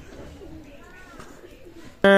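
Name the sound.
teddy pigeons cooing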